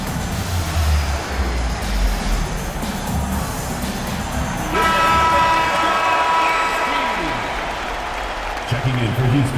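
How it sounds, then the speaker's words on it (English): Arena crowd noise from an NBA 2K26 basketball game, a 1991 playoff matchup of the Kings against the Houston Rockets, with cheering and applause swelling during a timeout under an announcer's voice. "Fans, please give a round of applause for your defense team."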